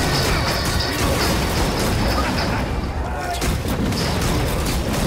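Heavy gun fire in the zombie shooter Killing Floor 2, a continuous loud barrage of booming shots and impacts filling the whole stretch without a break.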